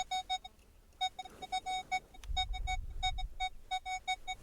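A metal detector answers a dropped fibula brooch with repeated short high beeps in an uneven stuttering rhythm, a brief rustle and thump partway through, heard close and clear with no talking.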